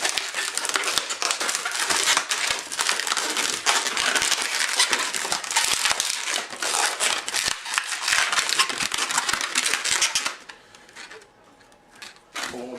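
Latex twisting balloon being tied into a knot while making a one-balloon helicopter, a dense run of close rubbery squeaks, stretching and crinkling rubs lasting about ten seconds before fading to quiet handling.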